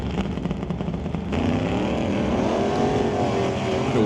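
Drag race cars, including a 62 Bel Air, launching at an NHRA Summit ET race, a rumbling engine roar swelling into sustained revving with shifting pitch, loud and continuous.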